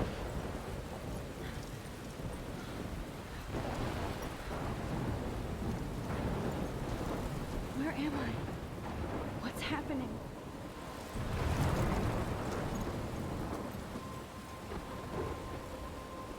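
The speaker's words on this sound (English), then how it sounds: "I'm trapped in a storm?" Thunderstorm in the video game The Talos Principle, with steady rain and rolling thunder rumbles, loudest swell near the end, while a voice speaks over it.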